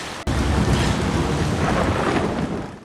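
A violent thunderstorm at sea lashes a sailing ship, with a sudden crack opening into a loud, continuous roar of heavy rain and rumbling thunder and no voices.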